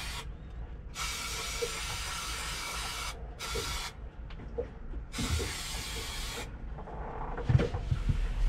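Neoprene contact adhesive hisses from an aerosol can in three separate bursts, the first and last a second or more long, while glue goes onto insulation inside a small sailboat cabin, with faint handling noises between sprays.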